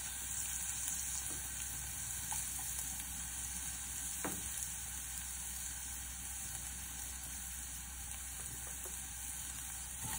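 Onion and then garlic sautéing in a hot pan, a steady, even sizzle close up with faint stirring scrapes and no voices.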